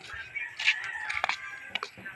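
A chicken clucks and squawks faintly amid a busy, noisy outdoor background, with a few sharp calls standing out.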